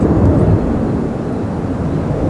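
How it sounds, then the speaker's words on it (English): An aircraft flies overhead with a loud, low, continuous rumble that swells slightly at the start and then holds steady, with no voices over it. "Oh, there's a flight."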